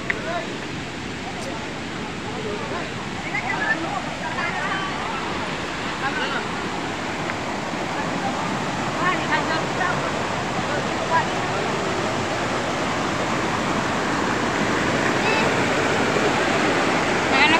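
Steady broadband rush of a waterfall at a forest spot in Keonjhar, continuous and fairly loud throughout, with faint voices now and then beneath the roar.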